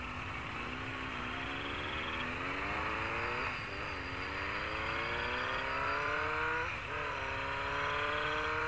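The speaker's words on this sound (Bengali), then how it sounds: "পিচ রাস্তা ধরে অন্ধকারের বুক চিরে ছুটে চলেছে বাইক" A motorbike carrying two riders speeds along a paved road at night, its engine note climbing repeatedly as it accelerates through the gears, a steady nearby drone.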